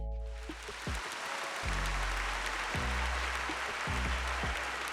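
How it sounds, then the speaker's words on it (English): A canned applause sample from a voice changer soundboard plays, a steady crowd-clapping wash, fairly faint, with a low droning hum beneath it. "but you know, applause."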